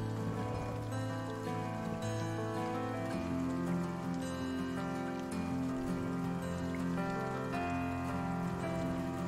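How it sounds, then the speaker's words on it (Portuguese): Rain falls steadily in the farming game Farm Manager 2021, a continuous soft patter heard alone over a low background hum with faint tonal music underneath. "Chovendo, não para de chover."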